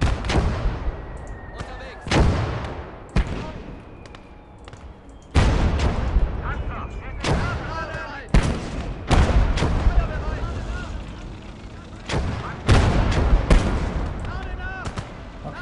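Heavy artillery blasts and bursts of gunfire from the Close Combat wargame, a dozen or so sharp loud impacts in irregular clusters with rumbling tails, while a voice talks faintly underneath.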